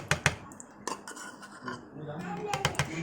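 A spoon clinks and scrapes against a bowl while chicken nugget paste, seasoned with salt and ground black pepper, is mixed, with several sharp metallic taps over a soft continuous stirring scrape.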